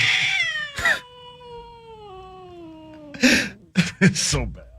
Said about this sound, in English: It's the cat call.